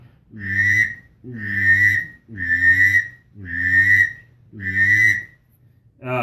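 Five loud, drawn-out whistled drake duck calls, each about a second long with short gaps, a nasal reedy tone repeated in steady rhythm.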